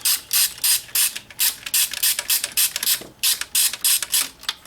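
Rapid bursts of a socket ratchet clicking in quick, uneven strokes close to the mic, removing fuel rail bolts on a BMW N54 engine during valve cover gasket work, with no talking.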